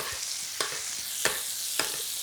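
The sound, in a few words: steak frying in a pan with herbs and garlic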